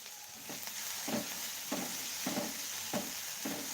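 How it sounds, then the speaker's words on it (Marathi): Sliced onion softening in a little oil for onion chutney makes a quiet, low sizzle, broken by regular soft scrapes of stirring roughly every half second. "कांदा हलकासा परतलेला आहे"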